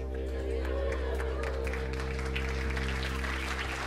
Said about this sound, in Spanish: un gran aplauso para María Teresa